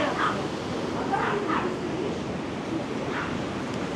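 A dog barks a few times in short bursts, somewhat distant, over a steady roar of stormy surf and waves on the Black Sea shore at Arcadia, Odesa.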